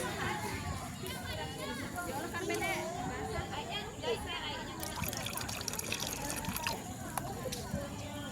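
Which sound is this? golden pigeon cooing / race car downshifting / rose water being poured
rose water being poured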